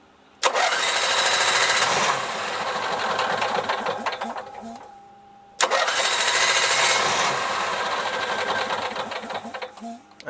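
An Onan 5500 RV generator cranks and fires up twice, running loud and steady with a busy mechanical clatter, briefly stopping around midway before starting again and continuing.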